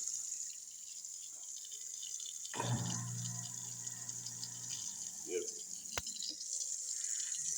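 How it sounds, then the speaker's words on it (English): Kitchen sink faucet switched on after a garbage disposal replacement, water running steadily and gently, with a faint click partway through and a quiet background hiss. "turn on the water."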